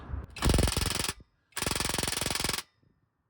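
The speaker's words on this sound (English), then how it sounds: "I got my impact wrench, and I'm just gonna try to do it that way" An impact wrench hammers at a stubborn bolt in two loud, close bursts of rapid rattling, each lasting about a second, with a short pause between them.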